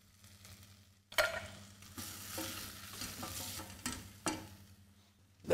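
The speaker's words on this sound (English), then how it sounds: "Give it a little saute, a little shake." Thyme leaves and a sliced garlic clove sauté in a hot pan with steady sizzling and frying, broken by several sharp stirring or shaking bursts of the pan; no one speaks.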